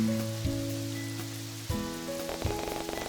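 Rain patters steadily on a surface, with light scattered drops layered over a soft hum and a few faint clicks near the end.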